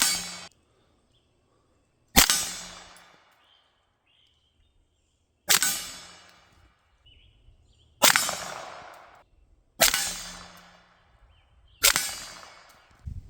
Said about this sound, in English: going to take a couple of quick shots at these targets